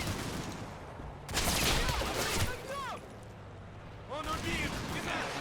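Bursts of gunfire from the war game Combat Mission crackle and rattle in two loud clusters, one early and one late. Thinner shots and whistling sounds come between them, and there may be some talk underneath.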